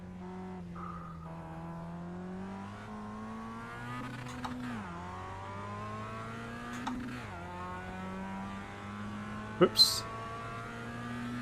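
A Mazda MX-5 race car in iRacing at Spa, steady engine drone with gear changes and brief tire squeal, a person talking over it throughout.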